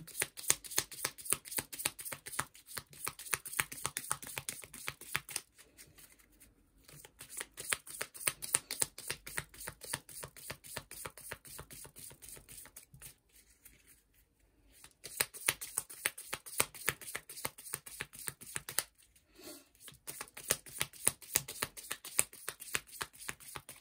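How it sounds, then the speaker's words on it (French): Oracle cards are shuffled over and over in rapid riffling bursts, close and crisp, with a few brief pauses between rounds and no talking. "je vais continuer avec en sortant une petite carte de l'oracle de la forêt"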